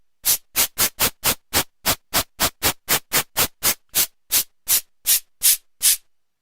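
Cabasa sample played on a vintage Alesis HR-16 drum machine, a bright, dry rasping shake repeated in a quick, steady pattern of about eighteen hits, close and clean with silence between strokes.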